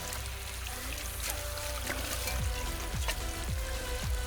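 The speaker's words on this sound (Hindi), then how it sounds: "अभी तो पानी जा रहा है हमारे इस डब्बों के अंदर जहाँ पर हमने सब्जियों के बीज लगाए थे" Water from a motor pump runs into vegetable seed beds on an organic farm, a soft, continuous trickle and gurgle with a few faint splashes, heard close but quiet.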